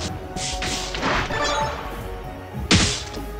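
Blast gems exploding in a video game, heard as several close thumping bursts and crashes, with one sharp loud hit near the end over steady game background sound.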